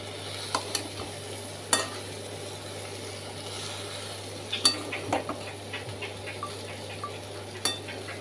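A spatula stirs taro stems and prawns in a pan, scattered scrapes and taps over a low sizzle and a steady background hum, close by and fairly quiet, with no voices.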